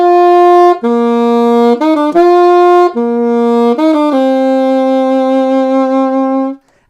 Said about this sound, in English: let us translate the Game of Thrones theme song onto our alto saxophones